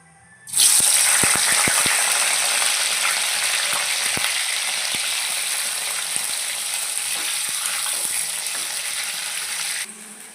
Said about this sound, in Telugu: వంకాయ ముక్కలు చూడండి ఈ సైజులో ఇలా కోసుకుని ప్యాన్ పెట్టుకుని ఆయిల్ వేసుకుని ఆయిల్ వేడెక్కిన తర్వాత ఇవి వేపుకోవాలండి